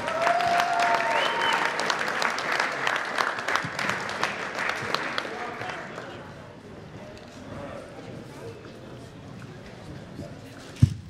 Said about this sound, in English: Once again, a big hand for Brian Rutschoff.